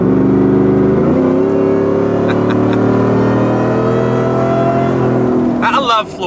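Ford F150 pickup with a new engine pulling hard under acceleration, the engine note rising steadily after a gear change near the one-second mark, loud and close inside the cab, with a person talking over it at the end.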